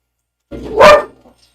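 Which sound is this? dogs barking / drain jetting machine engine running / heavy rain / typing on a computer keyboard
dogs barking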